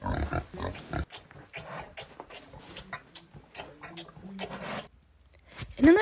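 Two pigs on a beef farm grunt and snuffle close by at evening feeding time, a run of short, irregular oinks and squishy chewing noises, with a brief quiet gap before a final louder squeal.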